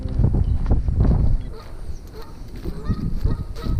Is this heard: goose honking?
yes